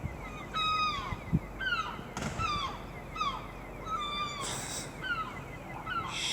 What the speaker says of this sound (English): Looks like we've got a seagull trying to chase